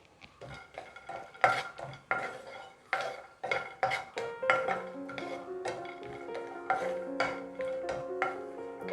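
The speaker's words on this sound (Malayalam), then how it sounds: "ചെറിയ ബ്രൗൺ കളർ ആവുന്നത് വരെ നമ്മളിത് ഇളക്കി കൊടുക്കണം" Cashew nuts roasting in ghee in a kadai, stirred with a utensil for a sweet semiya kesari; repeated close metallic scrapes and clinks form an uneven rhythm, and a brief ringing tone sounds toward the end, with no talking.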